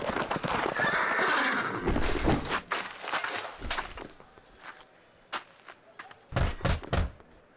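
A recorded horse neighs loudly at the start, followed by hooves clip-clopping and then a series of sharp knocks and thuds like a wooden door being knocked on and opened, all close and without speech.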